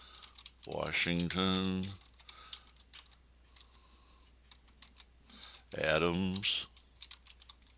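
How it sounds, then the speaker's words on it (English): Quick bursts of typing on a computer keyboard, with rapid close clicks arriving in two separate runs. Someone speaks briefly between the bursts. "So I'll type in some answers."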